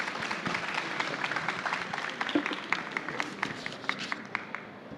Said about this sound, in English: Big round of applause for Shweta, please.